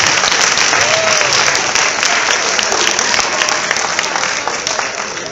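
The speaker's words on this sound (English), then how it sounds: "Give them a tremendous round of applause." Sustained, loud round of applause from a crowd at a high school after-prom event, continuous throughout and tapering slightly at the end, with no speech over it.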